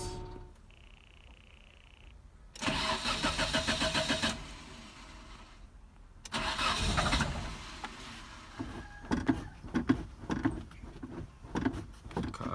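A Nissan Sunny engine cranks and fires in bursts, then settles into a rumbling exhaust idle with irregular pulses and surges, heard up close.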